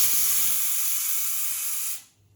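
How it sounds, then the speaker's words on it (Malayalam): Pressure cooker whistle on a stove while cooking mandi, a loud steady steam hiss that blasts for about two seconds and then cuts off abruptly, with no talking. "ഇനി നമ്മൾ നമ്മുടെ കുക്കർ വെച്ചിട്ടുണ്ട്. ഒരു ഫിസിൽ കേൾക്കേണ്ട ആവശ്യം മാത്രമേ ഉള്ളൂ."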